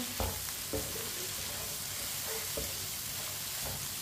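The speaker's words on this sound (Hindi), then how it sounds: "अब इसे 2 मिनट के लिए इसी तरह चम्मच चलाते हुए पका लेंगे।" Beaten eggs sizzling and frying in a pan as a spoon stirs them, a steady close hiss broken by a few soft scraping knocks from the stirring.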